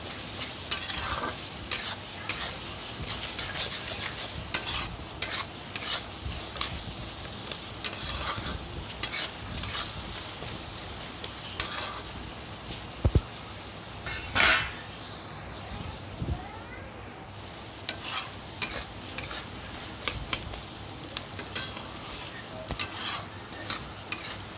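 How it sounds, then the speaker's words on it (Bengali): Pasta frying in a pan in a village-style kitchen, being stirred with a utensil in repeated scraping strokes over a continuous sizzle, close up, with occasional clinks and no talking. "দিয়ে ভালোভাবে আবার নেড়ে চেড়ে ভেজে নেব।"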